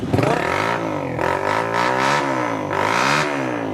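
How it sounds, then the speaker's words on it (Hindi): A Honda motorcycle engine self-starts and revs repeatedly, rising and falling in pitch, loud and close throughout. "सेल्फ स्टार्ट कर रहा है फौरी काम"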